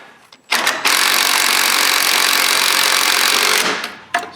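A weak impact wrench tightening tie rod end nuts on a GMC/Chevy 1500 truck, one loud sustained buzzing burst of about three seconds, followed by a brief second rattle.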